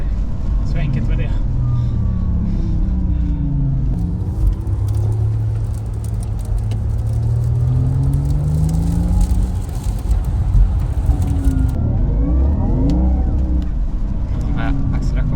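A Porsche sports car accelerates on a race track, its engine rising and falling in loud sweeping pitch as it shifts through gears, heard from inside with people talking over the roar.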